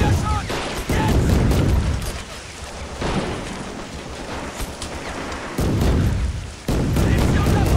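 Video game combat filled with dense gunfire: repeated loud bursts and booming volleys with rattling shots in between, under shouted voice lines.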